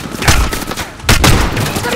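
Gunfire in Call of Duty Modern Warfare comes as two heavy bursts of close, loud shots with booming low-end impacts roughly a second apart, with sustained noisy rumble between them.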